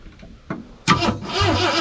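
A 1963.5 Ford Galaxie 500 hardtop with its ignition timing 180 degrees off cranks after sitting for decades, a few soft clicks and a thump, then a sudden loud burst and rough mechanical churning from the engine, close by.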